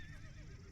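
A horse whinnies in a video game, a short rising neigh over a steady low in-game rumble, moderately loud and without talk.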